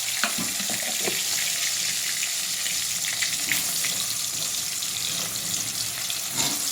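Potatoes fry in very hot oil, a dense, loud, continuous sizzle and crackle with scattered sharper spits of splattering oil throughout.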